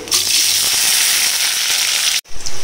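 Onion frying in a pan with chicken, a loud, dense sizzle held steadily for over two seconds before cutting out abruptly and briefly resuming.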